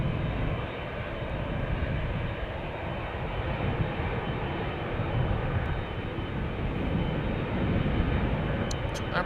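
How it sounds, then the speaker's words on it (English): A Boeing 747-8 airliner arriving at Amsterdam Schiphol Airport gives a steady, broad engine roar that holds loud and constant throughout, with no talk. "747-8 arriving from Baku."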